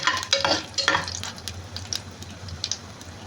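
Tomato chutney is stirred in a frying pan: a spoon scrapes and clinks against the pan in several quick strokes over a soft, steady sizzle, then the activity eases.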